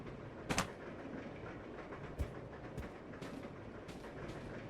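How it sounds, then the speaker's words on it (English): A train running in the video game Resident Evil Zero, with a low steady rumble and rail rattle, punctuated by a few sharp metallic clanks and knocks, heard alone without voices. "And that is the train"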